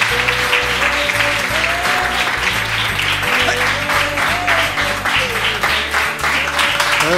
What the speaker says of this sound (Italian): Grazie, applausi